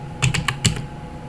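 A few quick keystrokes on a computer keyboard, about five crisp clicks in a short burst, close and clear against a quiet room.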